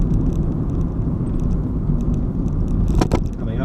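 A car with a four-speed gearbox plus overdrive accelerates up through second and third gear, producing a close, steady low engine rumble. A short rattle comes near the end, and a voice may be faintly present underneath.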